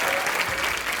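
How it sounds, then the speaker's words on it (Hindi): Studio audience applause on a TV comedy show, a short, full, continuous burst of many hands clapping for celebrity guests, lasting about a second. "अर्जुन रामपाल और विद्या बालन के लिए जोरदार तालियां"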